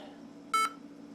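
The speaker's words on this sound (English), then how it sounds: "This computer has a very annoying beep when the sound driver isn't installed" A single short electronic beep from a Dell XPS M1210 laptop without a sound driver installed, a bright steady tone lasting a fraction of a second, sounds over quiet background hum.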